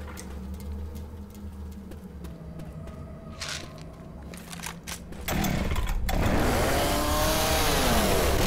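A chainsaw in the Left 4 Dead 2 VR mod game starts amid clattering game noise, then roars loudly and continuously, its engine pitch wavering as it revs over the final few seconds.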